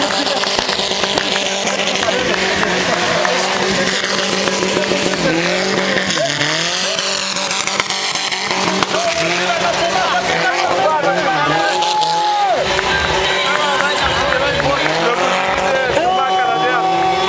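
A car drifting at a smoke show, engine roaring at high revs with tires squealing and skidding continuously for the whole stretch, loud and close, with a crowd and announcer talking over it.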